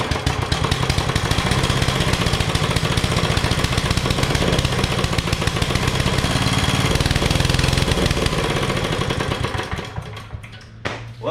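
A 1990s commercial Toro lawn mower engine running after repair, a loud steady close-up drone with a rapid firing pulse that sputters and fades near the end.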